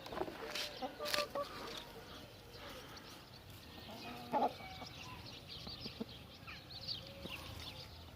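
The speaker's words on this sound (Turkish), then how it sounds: "Hint kırması horozumuz" Indian crossbreed rooster among farm chickens, with brief clucks and calls standing out against a faint, steady outdoor background.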